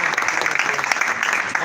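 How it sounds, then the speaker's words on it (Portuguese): A congregation at a live evangelical worship service applauds in church, with dense, steady clapping filling the brief moment with no break. "Uma salva de palmas ao Senhor Jesus."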